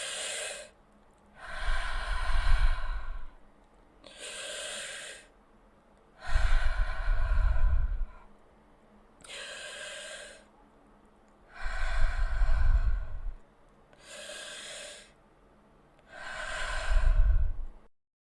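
Deep, slow breathing during a guided emotional regulation meditation: long audible inhales alternate with breathy exhales in an even rhythm, close and unaccompanied by talk.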